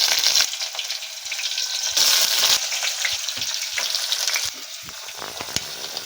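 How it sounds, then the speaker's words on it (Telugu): Onions sizzle loudly in hot oil in a pan for tomato curry, a dense steady frying hiss broken by a few stirring knocks and surges as they are moved around. "ఉల్లిగడ్డలు వేసుకుంటున్నా."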